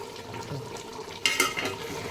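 Potatoes and meat being stirred in a cooking pot for biryani: a faint soft background, then a short burst of wet scraping and sloshing, two quick strokes close by, fading into quiet simmering.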